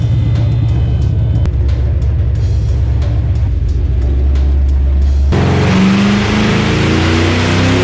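A Ford 387 stroker V8, a naturally aspirated engine in a black car, idles with a loud, deep, steady rumble and then revs hard near the end, shifting into a louder, rising roar.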